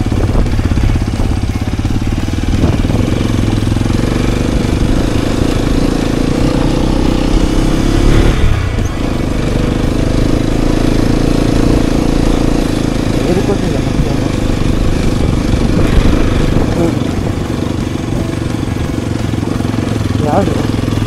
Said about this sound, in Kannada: ಆ ಕಮಾನಿಂದ ಡ್ರರ್ ಅಂತ ಗಾಡಿ ಹೊಡ್ಕೊಂಡು ಮೇಲೆ ಹೋಗ್ಬೇಕು ಫುಲ್ಲು